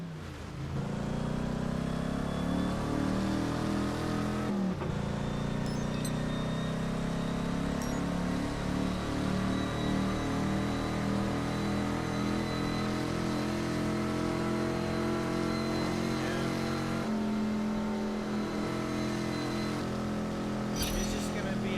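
A 1968 fastback's engine cruises in the racing game Test Drive Unlimited 2, a loud continuous drone whose pitch climbs and resets through gear shifts, with a player talking over it.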